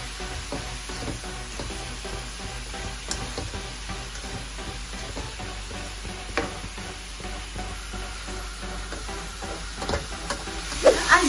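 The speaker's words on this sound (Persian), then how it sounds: "دو تا دسته کوچیکم جعفری خورد کردم، اینم اضافه میکنم. و یه مقدار تفت میدم." Chopped mint and parsley sautéing in a pan for a celery and herb stew, with a steady soft sizzle and occasional stirring scrapes across the whole stretch, a few louder clatters near the end.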